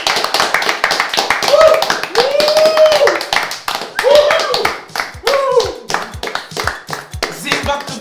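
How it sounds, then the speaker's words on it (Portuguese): Podcast hosts clap for themselves in uneven bursts of close, sharp hand claps. Their voices whoop and talk over the clapping, and the claps trail off into scattered single smacks. "Uma salva de palmas para nós próprios."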